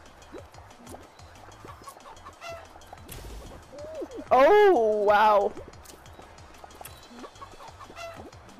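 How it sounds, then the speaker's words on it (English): Clucking from a chicken rings out in a Fall Guys game, a loud, pitched burst of calls near the middle over a busy background of game sounds, with a person speaking briefly. "I hear a chicken right now."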